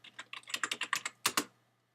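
Rapid keystrokes on a computer keyboard, about a dozen close, distinct clicks in an uneven rhythm ending in two louder taps, with no talking.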